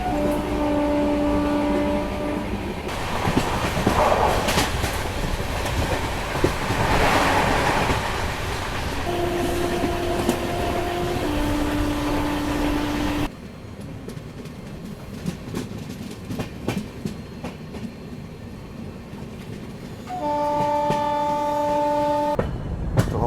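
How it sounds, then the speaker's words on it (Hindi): An intercity express train rolls into Deoria Sadar station on the Gorakhpur–Varanasi route with loud rumbling and wheel clatter, while long sustained horn blasts sound several times, near and loud, and another train departs alongside. "हमारी ट्रेन का अराइवल हो रहा है देवरिया सदर रेलवे स्टेशन पे, और सामने से किसी ट्रेन का डिपार्चर भी हो रहा है।"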